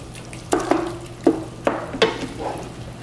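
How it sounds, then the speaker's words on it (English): Jerk-seasoned beef is mixed in a cooking pan, with several distinct scraping and knocking strokes of a utensil over a soft, steady sizzle. "So mix everything together"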